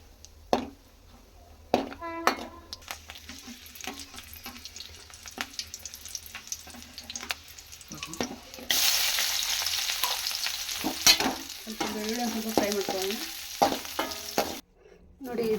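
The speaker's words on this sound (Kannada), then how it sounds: "ಇವಾಗ ಒಣ ಕೊಬ್ಬರಿ ಮತ್ತು ಬ್ಯಾಡಿಗೆ ಮೆಣಸಿನ್ಕಾಯಿ ಸ್ವಲ್ಪ ಎಣ್ಣೆ ಫ್ರೈ ಮಾಡ್ಕೋಬೇಕು" Dry coconut and byadagi chillies fry in a little oil, starting with scattered clinks and light crackles, then a loud, continuous sizzle, with a voice speaking over the pan.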